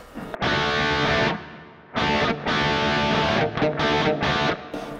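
Heavily distorted electric guitar through a Kemper Mesa/Boogie John Petrucci JP2C preset with only reverb on, playing loud sustained chords in three bursts, each ringing out into a short reverb tail, with no voices.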